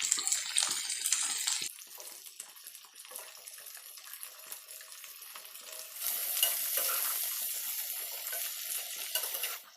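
Broccoli frying in a pan after chopped onions and green chillies have been browned, giving a steady close sizzle with stirring and scraping throughout, louder at the start and again near the end, with no talking.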